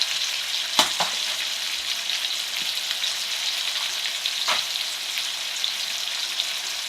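Chicken pieces for a pot pie browning in a frying pan, an even, close crackling sizzle that runs throughout with a few sharp utensil clicks and no talking.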